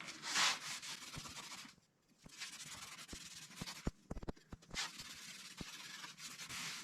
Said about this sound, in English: Now I'm going to give them a quick stain with my favorite Early American.